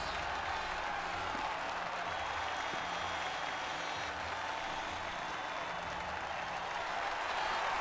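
Crowd cheering and applause from the F1 2013 video game at the Korea International Circuit, a dense, steady wash of distant cheers and clapping that holds at an even level throughout.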